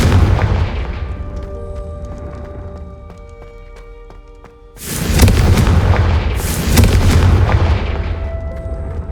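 Confringo blasting spell explosions in a Harry Potter video game: a humming, tonal stretch gives way to two loud, close booming blasts, each followed by a long rumbling decay.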